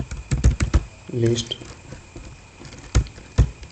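Computer keyboard keys clatter in scattered bursts of quick taps while Python code is typed, with a soft, low voice murmuring in the gaps between the clicks.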